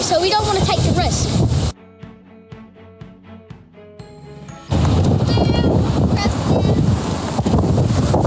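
Outdoors, wind buffets the microphone in loud, rough gusts, broken in the middle by a short stretch of musical tones before the blustering noise returns.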